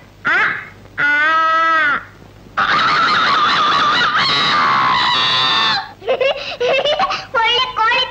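A voice imitates a rooster crowing in a Kannada film comedy scene: several loud, close, drawn-out strained calls with shrill warbling cries, separated by short pauses.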